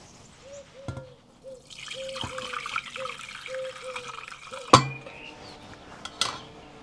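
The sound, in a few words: lemon peel liquid strained through a sieve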